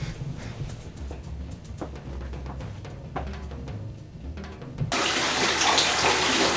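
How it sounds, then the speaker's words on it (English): Water runs steadily from a household shower, a continuous rushing hiss with a louder, brighter surge near the end, close and with no talk. "I'm gonna take a shower"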